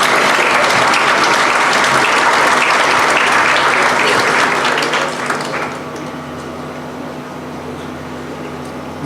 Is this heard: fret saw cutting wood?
no